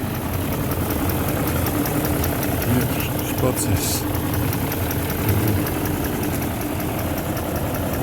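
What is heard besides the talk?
BMW E38 735i engine idling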